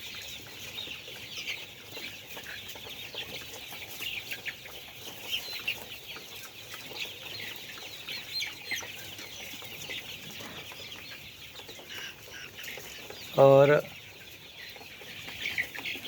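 Farm chickens and roosters at morning, a steady backdrop of clucking and fowl calls with a brief louder call near the end, with a little speech in the mix.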